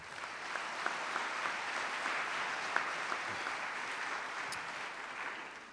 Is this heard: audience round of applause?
yes